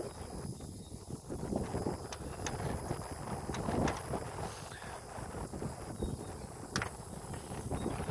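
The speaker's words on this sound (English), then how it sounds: "Got some nice wind out here today." Wind blows outdoors beside a road on a summer day, a continuous rough buffeting rush across the microphone with scattered faint knocks.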